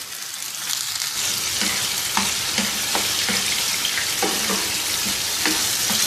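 Onion paste sizzles and fries in oil on a tawa, a steady close hiss broken by several soft stirring scrapes, with no talking.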